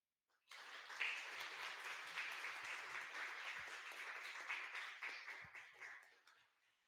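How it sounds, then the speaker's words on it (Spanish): A seated audience applauds at a university science and technology week book presentation, a dense, steady wash of many hands clapping that starts abruptly, holds for several seconds and then tapers off without any talking. "vamos a darles un fuerte aplauso"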